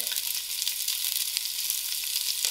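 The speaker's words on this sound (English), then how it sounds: "Now the ghee has melted away, so firstly I'm going to put in my onions to fry." Onions frying in melted ghee give off a dense, even hiss, close and constant from start to finish with no talking.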